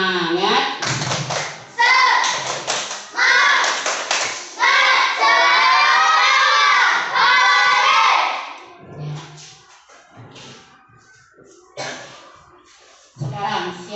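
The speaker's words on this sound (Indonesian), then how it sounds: "Tepuk semangat." Schoolchildren in a classroom chant a spirit clap together, their voices loud and close in short bursts with taps and claps, followed by quieter scattered talk.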